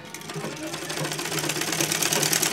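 A sewing machine stitches a body piece to a puff sleeve, running continuously with a fast, even mechanical rattle that grows slightly louder toward the end.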